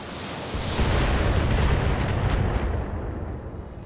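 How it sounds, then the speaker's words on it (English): A salvo of long-range missiles launching in BattleTech, a dense, sustained rumbling roar of overlapping blasts that fades slightly toward the end, loud and close with no talk over it. "We're gonna fire the LRM that's decent."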